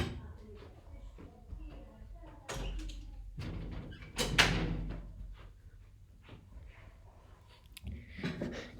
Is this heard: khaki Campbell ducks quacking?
no